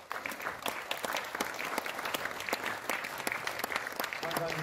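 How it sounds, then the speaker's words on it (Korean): Steady applause from a crowd at a memorial ceremony marking the death anniversary of founding president Syngman Rhee, welcoming introduced guests, moderately distant and continuous with sharp individual claps standing out. "박수로 환영해 주시면 고맙겠습니다."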